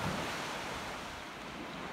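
Ocean surf on a Cumberland Island beach rolls in as a broad, steady wash of noise, fairly close and continuous, mixed with some wind.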